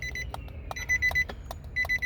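Short electronic beeps from the body control module of a 2007-2013 Nissan Altima as a key is pushed into the ignition, several brief tones in a quick irregular series over low engine-bay hum and clicks.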